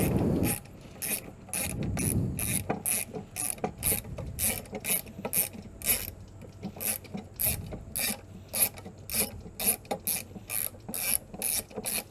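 A ratchet wrench removes bolts from an engine's bottom timing cover, giving close, steady rapid clicking with scraping and rubbing noises between strokes.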